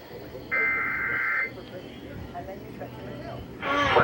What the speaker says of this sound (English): The EAS is coming on.